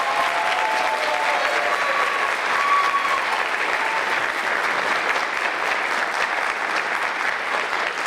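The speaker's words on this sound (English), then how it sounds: "maybe a round of applause out there" A pageant audience breaks into a round of applause, sustained and even crowd clapping throughout with a few faint whistles or cheers mixed in.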